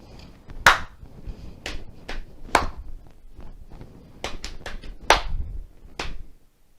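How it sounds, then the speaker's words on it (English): Clapping and knee patting performed as a rhythmic body-percussion composition in a Year 5 and 6 class, with sharp close claps alternating with softer, duller pats in an uneven pattern. "So there's my clap, here's my knees."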